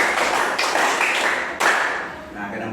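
Hands clap in a counted classroom clapping game, one to five claps per round, with a few sharp strikes standing out over a steady wash of voices talking and chanting throughout.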